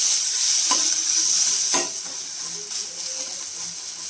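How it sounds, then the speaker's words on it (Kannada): Turmeric is stirred into potatoes frying in oil in a pan for aloo curry: a steady close sizzle and hiss with a few scraping spoon strokes, no voices. "ಅರ್ಧ ಸ್ಪೂನು ಅರಿಶಿನ ಹಾಕಿ ಒಂದ್ಸಲ ನೀಟಾಗಿ ಮಿಕ್ಸ್ ಮಾಡ್ಕೋಬೇಕು."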